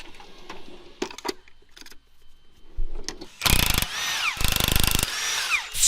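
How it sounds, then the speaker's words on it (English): Power tool work on truck frame bolts while removing a power steering box: short ratcheting bursts, then loud sustained whirring runs of an impact or drill, close by with no talk. "So it's just 3 bolts right here on the frame. I'm gonna get that pulled out and out of the way"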